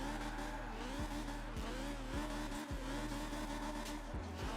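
A BMW E30 drifting in the Forza Horizon 4 racing game, its engine droning steadily while tires squeal through the slide, with repeated dips and surges in revs.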